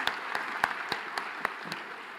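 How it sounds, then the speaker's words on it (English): A modest round of applause at a university health sciences prize giving ceremony, fairly faint and distant clapping from a hall audience, brief and even with a few sharper claps standing out. "another round of applause for these research groups"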